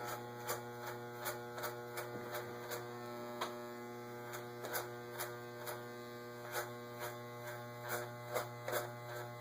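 Electric hair clippers blend a neck taper fade with a continuous low electric buzz and hum, quiet and close, with light irregular clicks and snips as the blades move through the hair.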